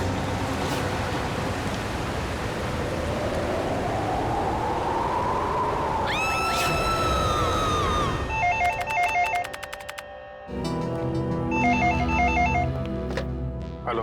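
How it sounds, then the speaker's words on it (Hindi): A telephone rings loudly with a repeated electronic trill, close and clear, entering after a long swelling whoosh and continuing in a steady pulsing pattern against a quiet background. "किसी महेश का फोन था, कह रहा था उसका बेटा रोहित कल रात से घर से"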